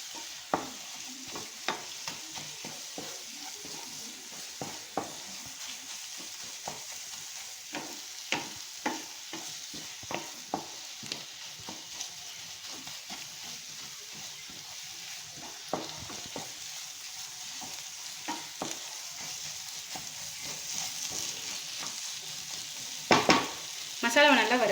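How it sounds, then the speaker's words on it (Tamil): Masala frying in a pan while being stirred, a quiet continuous sizzle broken by frequent irregular scraping clicks of the spoon, close and alone with no talk. "நல்ல மசாலாவை நல்லா வறுத்துக்கோங்க"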